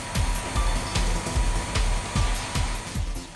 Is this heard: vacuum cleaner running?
yes